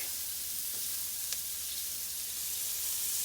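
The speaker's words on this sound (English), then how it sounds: "We got all these onions. There you go. In the wok." Chopped onions sizzle in very hot oil in a wok while cooking orange chicken. A steady, loud hiss fills the whole stretch with no talking.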